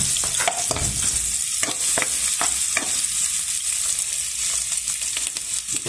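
Garlic and onion sauté in a hot pan, a steady close sizzle running throughout with scattered stirring scrapes and clicks.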